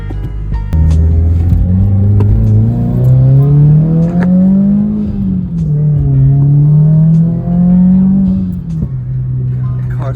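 A car accelerates and revs on the way to work, its engine note rising and falling in strong, close sweeps as it pulls through the gears, loud and continuous.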